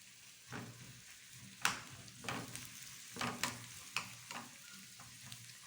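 Chopped onions with garlic fry quietly in a pan, a soft sizzle broken by a series of sharp scraping stirs at irregular intervals, close by and with no talk.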